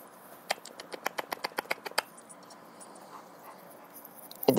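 A Chihuahua puppy panting and whimpering, a rapid run of about a dozen short, sharp breaths followed by quieter snuffling and a louder burst of noise at the end, close and without talk.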